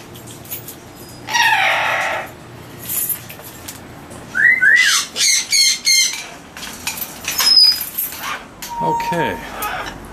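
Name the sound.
parrots calling in an aviary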